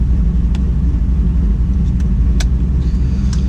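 A cammed Chevrolet Camaro SS engine rumbles at idle, a steady deep low throb close by with faint clicks above, no talking.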